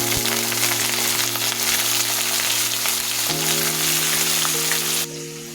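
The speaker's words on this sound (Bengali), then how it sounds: "পেঁয়াজটা আমার লাল লাল হয়ে গেল, দিয়ে দিলাম এখানে কলিজাগুলো।" Pieces of liver are added to reddish-browned onions and whole spices and fry in a pan. A dense, continuous sizzle rides over a steady low hum, then drops off sharply just before the end.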